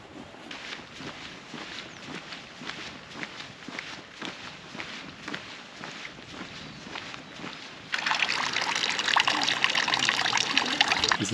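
Footsteps crunching along a trail in the Vosges, then from midway a village fountain's water splashing and trickling steadily, close and fairly loud, with no talking.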